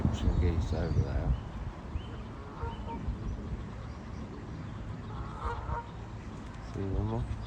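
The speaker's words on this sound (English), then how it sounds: "Egyptian geese over there." Egyptian geese honk outdoors in a park with nature sounds: a few separate bursts of nasal honking, moderately near, over a rumbling background with voices in the distance.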